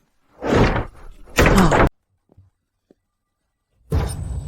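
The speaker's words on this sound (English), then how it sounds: "Someone, break the door open for me." A door is forced open with two heavy, booming slams close by, followed by faint knocks and a short quiet gap, then another loud, sustained thud.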